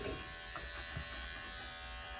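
Steady electric buzz of a Schoenbau digital grooming clipper with a 7F blade trimming the lower ear of a senior special-needs dog, running close and continuously with no pauses.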